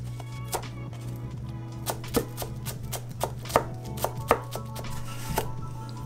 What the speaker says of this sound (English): plus finely chopping up some red onions